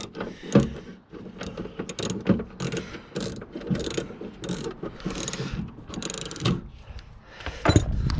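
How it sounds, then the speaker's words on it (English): A 3/8-inch-drive ratchet with a quarter-inch socket adapter clicks in irregular bursts while loosening a fastener on the right rear inner light unit of a 2013 BMW F30 318, close and fairly loud, with no talking. "this is a 3/8 drive ratchet. So it should be a matter of undoing this."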